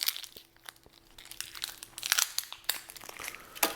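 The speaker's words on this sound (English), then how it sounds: "Peel that top layer off." Top layer peeled from a halved onion in a home kitchen during burger prep: close, continuous crinkling and crunchy tearing with brighter snaps near the end, no speech.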